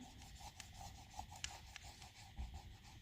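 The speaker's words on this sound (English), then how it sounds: "We'll buff it, rub it down." Rubbing down an Arden Creative Studio rub-on transfer onto a resin dish makes soft, steady scratchy rasping with a few brief louder scrapes. It is close and quiet, with no voices.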